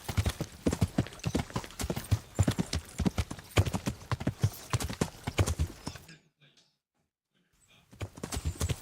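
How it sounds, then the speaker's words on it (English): Horse hooves clip-clopping in the Kingdom Come Deliverance video game, a steady rapid rhythm of close hoof strikes for about six seconds, a brief pause, then the hooves resume. "Oh, it's good to have a horse back again."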